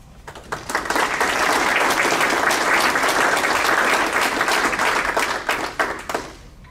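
Sustained applause from an audience at a school district staff awards ceremony, steady dense clapping that swells quickly, holds loud for several seconds, then thins out near the end.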